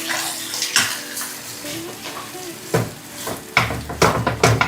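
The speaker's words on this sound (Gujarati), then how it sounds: "બટાકાનો જે છુંદો છે એ અંદર એડ કરીએ છીએ." Mashed potato filling for farali samosas is stirred in a pan. A close spoon scrapes and clatters in a few sharp bursts over a soft wet churning.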